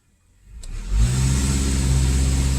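A 2014 Honda Accord engine cranks and catches, then settles into a loud, steady close-up idle; no distinct stumble stands out.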